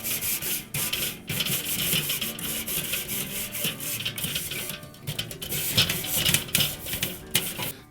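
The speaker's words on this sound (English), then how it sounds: "take a wire brush and just scrape all the junk off of that" A wire brush scrubs hard across the grate of a Weber kettle charcoal grill, giving a continuous, close, gritty scraping with quick back-and-forth strokes and brief pauses, no talking.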